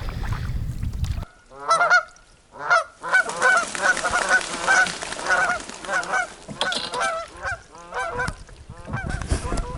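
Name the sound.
geese honking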